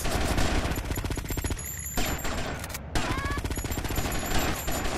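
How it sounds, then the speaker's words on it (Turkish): Rapid bursts of automatic gunfire in the GTA Vice City video game, dense and sustained with a brief lull near the middle before the firing resumes over a busy game backdrop. "Bir yerden vuran var."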